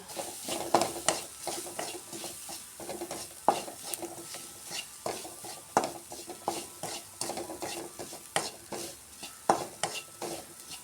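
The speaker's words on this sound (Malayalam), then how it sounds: "വഴറ്റിയതിന് ശേഷം നമ്മൾ തേങ്ങയും മുളക് പൊടിയും മഞ്ഞൾപ്പൊടി മിക്സ് ചെയ്ത് വെച്ചത് അതിലേക്കിട്ട് നന്നായി ഇളക്കുക" A spoon repeatedly scrapes and stirs coconut, chilli powder and turmeric into a sautéed mix for drumstick-leaf thoran, with rhythmic clinks on the pan over a soft, steady sizzle.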